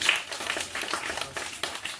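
Scattered hand claps from a small crowd greeting a street magician posing as a baba, soft and irregular over a low background murmur.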